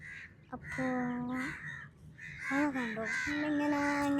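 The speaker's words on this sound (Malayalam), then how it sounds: "ഓരോ ഒച്ചപ്പാട് കേൾക്കുന്നുണ്ട് കാക്കൻ്റെ" Crows caw near a beach with repeated harsh, drawn-out calls in separate bursts, fairly close and clear, with a few other faint sounds between the calls.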